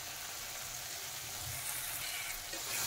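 Spices sauté in a pan for egg curry with a soft, continuous sizzle that stays even and fairly quiet for a few seconds, with nothing else heard over it.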